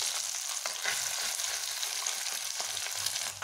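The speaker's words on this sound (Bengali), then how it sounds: "মাছগুলোকে লাল লাল করে ভেজে নেব।" Small fish frying in hot oil in a home kitchen, a continuous bright sizzle and crackle with faint low stirring bumps beneath, close and steady throughout, no talk.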